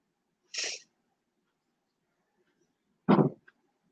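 Two short, separate noises from a cat, a breathy hiss-like burst followed a few seconds later by a louder, lower sound, close by in an otherwise quiet room with no talking.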